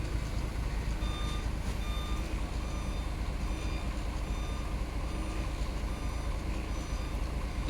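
A 40-foot trailer truck reverses with a steady repeating backup beeper sounding in even pulses over a continuous engine rumble, with no talking.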